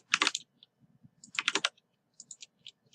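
Typing on a computer keyboard while entering a street address into a real-estate forms program, heard as two quick bursts of close clicking keystrokes separated by short pauses, followed by a few sparser taps.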